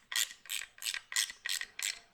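Ratchet snugging up cover bolts in a star pattern, giving seven quick, evenly spaced clicking strokes, close and crisp with nothing else heard.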